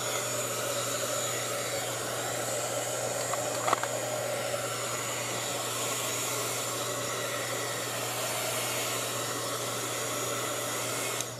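A hair dryer blows on a watercolor painting, a steady, loud, broadband whoosh running unbroken for the whole stretch.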